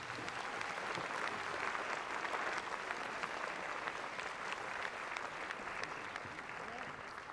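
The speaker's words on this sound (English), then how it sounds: "a nice round of applause for Roosevelt High School Quartet" A large audience applauds the Roosevelt High School Quartet at a Hawaii governor's inauguration ceremony, with dense, steady clapping that holds at an even level for the whole stretch.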